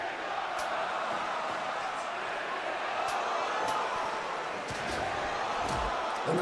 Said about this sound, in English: And the crowd, unsurprisingly, loving this match